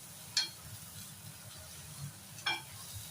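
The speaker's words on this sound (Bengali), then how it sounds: "ভালো করে চেপে চেপে এটাকে নাড়াচাড়া করবেন একটু সময় নিয়ে" Bombay duck (bombil) fish jhura is pressed and stirred in a pan over a high flame, giving two brief, faint scraping strokes over a low, steady background.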